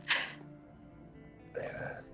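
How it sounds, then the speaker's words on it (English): A single person sneezes, a sharp sudden burst followed by a short breathy exhale, faint and close, with a quiet pause before a second soft breath. "There's that sneeze half an hour later."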